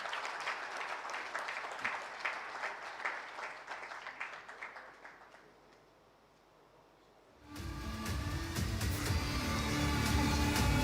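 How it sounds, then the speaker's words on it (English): Audience applause at a 33rd Foundation Day ceremony, a steady broadband patter of many hands that dips to a lull midway, then swells back louder and denser, continuing without talk. "A huge round of applause,"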